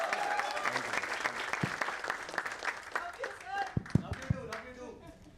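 An audience at an offline trading masterclass bursts into applause, a dense wash of clapping that builds and then thins into scattered claps, with a few voices mixed in.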